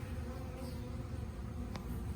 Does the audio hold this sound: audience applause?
no